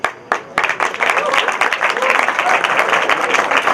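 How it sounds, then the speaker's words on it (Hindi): An audience at a 2014 Paryushan lecture gathering breaks into dense, steady applause that continues evenly throughout, close and fairly loud, with a voice faintly audible beneath it. "अच्छा किया आपने ताली बजाई"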